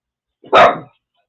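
A single sharp dog bark, close and loud, with a brief lead-in yip, then silence.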